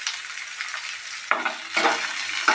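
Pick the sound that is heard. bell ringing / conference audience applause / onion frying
onion frying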